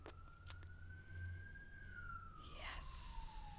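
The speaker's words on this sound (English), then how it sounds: "I hear the sirens going by." A faint siren wails in the distance with a slowly drifting tone, fading away as a vehicle passes, with quiet background sounds.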